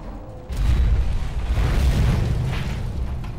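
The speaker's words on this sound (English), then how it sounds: "Let's grab a fuel can, light it on fire, take out this transfer tank." A burning fuel can blows up a transfer tank in the Mad Max video game, a loud booming explosion that bursts in after a quiet start and rolls on as a deep, sustained rumble.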